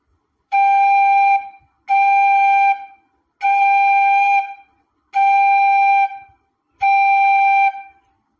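A bansuri flute imitates a phone engaged tone with five loud, identical held notes of about a second each. The notes are separated by short, even gaps.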